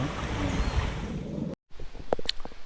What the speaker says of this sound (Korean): 저게 원앙 폭포랍니다